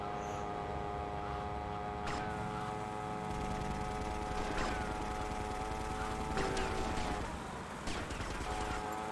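Gunfire in GTA Vice City Definitive Edition, a few sharp shots cracking out at intervals over a steady hum of game sound, fairly quiet and without talk.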